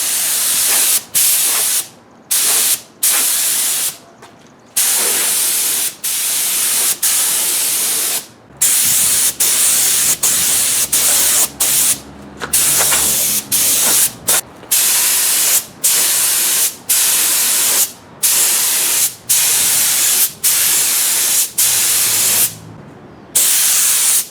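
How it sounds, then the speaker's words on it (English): Spray primer hisses onto steel parts of a TIG welding cart in repeated loud bursts of a second or two each, separated by short pauses, with no talking. "I'm gonna get this steel primed up and then we'll paint it tomorrow."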